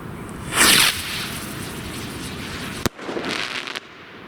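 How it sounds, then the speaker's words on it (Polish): Piromax Aplauz PXR213 crackling firework rockets burst outdoors with a loud crackling flare, then a long hiss of falling crackle, a sharp pop, and a second softer crackling burst fading toward the end. "Tu mieliśmy crackling."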